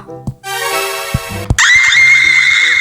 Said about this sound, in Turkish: niye çığlık attın ki?